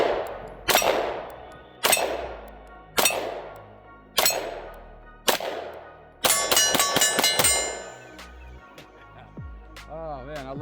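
Shots from an HK CC9 micro pistol ring out at a steady pace, five sharp reports each followed by a clanging ring-off, then a faster burst of several rounds and quieter metallic rattles.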